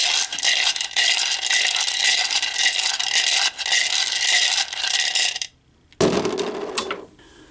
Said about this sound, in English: We're going to shuffle these up and take a handful, toss them inside my circle